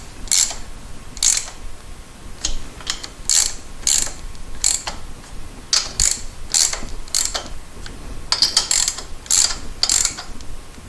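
A ratchet clicks in short bursts while tightening the cylinder head bolts on a 1973 Moto Guzzi motorcycle, crisp close metallic pawl rattles repeated in an irregular rhythm with brief pauses, no talking.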